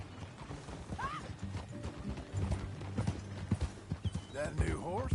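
Horse hooves clip-clop through a ride in the video game Red Dead Redemption 2, a steady close trotting rhythm mixed with a whinny, game music and voices talking over it.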